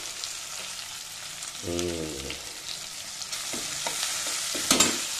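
Curry leaves drop into hot oil for semiya upma and crackle into a close, steady sizzle, with light stirring scrapes and a few sharper clinks toward the end.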